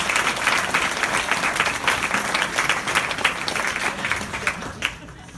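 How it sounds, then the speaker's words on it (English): Wedding guests give a round of applause after a best man speech, loud, crisp clapping from a nearby crowd sustained for about five seconds before tapering off at the end. "I think that deserves a round of applause."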